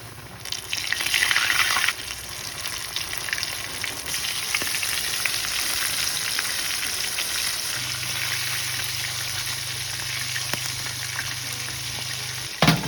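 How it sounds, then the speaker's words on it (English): Chicken fries in canola oil heated to 350 degrees in a cast iron pan half full of oil, giving a steady, close crackling sizzle that surges at the start and holds throughout, with occasional clinks. "And now I'm going to start frying my chicken."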